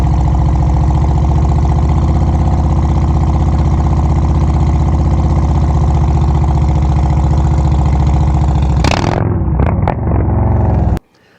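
A motorcycle engine running at slow speed during a low-speed control exercise, a loud, close, steady throbbing idle that holds for several seconds before revving unevenly and cutting off abruptly.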